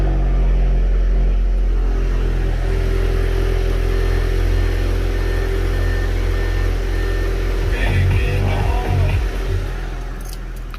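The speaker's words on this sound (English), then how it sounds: "the cold start always sounds good on this car" An Audi A5 2.0T engine with APR Stage 1 tuning rumbles steadily at idle close by on a cold start, with a brief rev near the end before the sound eases off.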